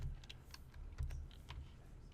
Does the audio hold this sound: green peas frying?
no